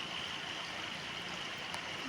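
Heavy rain pours down outside a house while floodwater runs past, giving a steady, even wash of noise that stays fairly faint and unbroken throughout, with no voices.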